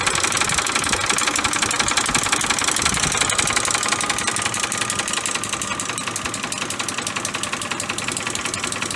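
A Ford three-valve engine runs with a noisy timing chain, giving a steady, loud mechanical clatter and rapid knocking over a constant idle drone throughout.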